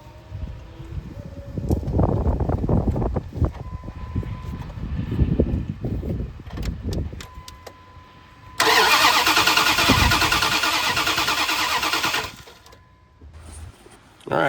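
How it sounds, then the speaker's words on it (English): A Dodge Dakota engine cranks repeatedly without catching after a DIY water pump job, the starter whirring in bursts with clatter between, then a long loud sustained whine before it stops; a voice speaks briefly. "while I crank the engine"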